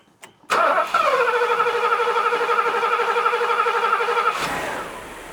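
A car that has sat unused for years cranks briefly, then catches and starts, settling into a steady, loud idle with a strong harmonic drone that holds for several seconds before easing off slightly at the end.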